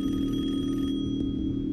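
A telephone rings with a steady electronic tone, fairly loud and close, continuing unbroken for under two seconds with no voices.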